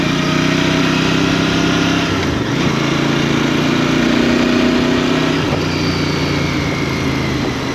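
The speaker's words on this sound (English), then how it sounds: "quite a lively engine" A mid-pitched Royal Enfield Bear motorcycle engine hums steadily and loudly throughout on a test ride, with brief dips in revs around a few gear changes but no strong revving bursts.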